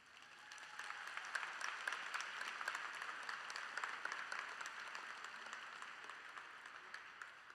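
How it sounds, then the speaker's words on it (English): Sustained applause from a graduation ceremony audience at Vanguard Academy, steady and dense for the whole stretch, moderately distant and without a voice over it. "I'd like to give a round of applause to all the teachers out there"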